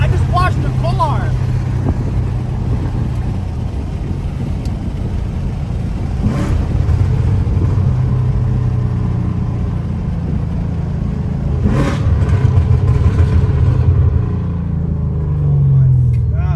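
Close, loud Ford Mustang GT Coyote engine idling with a heavy exhaust rumble, then blipping into sharp revs a few times, while people talk over it.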